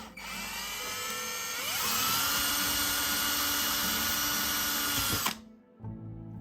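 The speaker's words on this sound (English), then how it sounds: "we will choose the 5mm drill bit and an electric drill, and we will be drilling a hole inside the tube on the underside of the brick" An electric drill fitted with a 5mm bit bores into a plastic LEGO brick, a loud high whirring whine that rises in pitch as the motor speeds up, held steady close by for about five seconds, then cut off abruptly.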